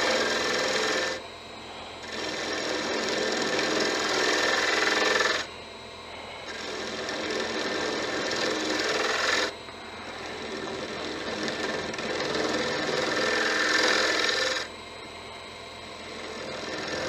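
Gentle cuts on a spinning wood lathe while turning a Christmas angel with turned wings make three long, steady scraping passes, each several seconds, separated by brief quieter gaps.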